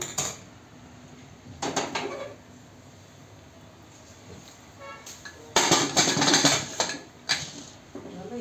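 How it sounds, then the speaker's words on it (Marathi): Metal pots and a pressure cooker clatter in a home kitchen while urad dal is cooked for varan, with several close bursts of clanking and scraping separated by quieter pauses. "कुकर आता लावून घेऊ आपण."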